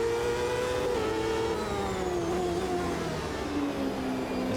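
Powerful, rough race cars roar around the track in the racing game Automobilista 2, a loud continuous engine drone with rising and falling revs and gear changes, another car faintly audible nearby.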